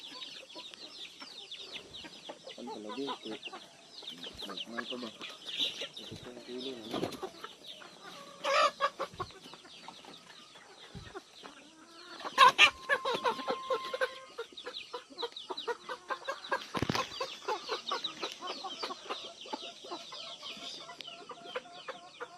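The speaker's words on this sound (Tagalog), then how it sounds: "Dami manok oh. Mga native nito na siya, sir. Mga native din ito." Native chickens cluck and chatter steadily outdoors on a farm, with a few louder calls rising above the flock and a rooster-like cry now and then.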